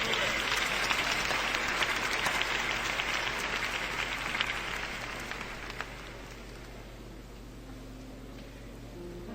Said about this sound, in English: clap your hands and give the Lord some praise